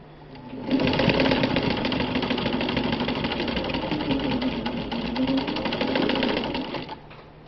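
A vintage Singer 15-91 gear-drive sewing machine stitches heavy fabric at a long stitch length, starting up into a loud, steady mechanical whir that runs evenly for about six seconds and then stops, with no talking.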